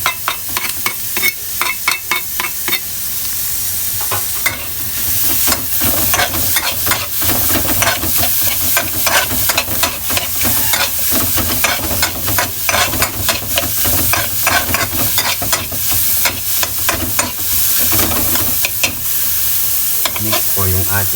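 Garlic sizzles and fries in a hot pan for beef mechado, a steady loud crackle with frequent stirring scrapes running throughout, no voices.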